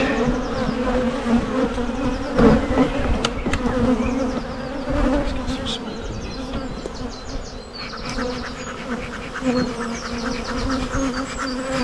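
Honeybees buzz around hive frames of a colony preparing to swarm, a dense, close drone, with individual bees zipping past now and then over the continuous hum.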